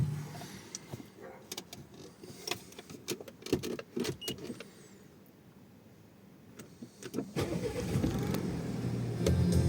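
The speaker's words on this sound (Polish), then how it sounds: "muszę odpalić samochód" Clicks and mechanical clunks give way to a car engine cranking and catching, settling into a steady low idle rumble.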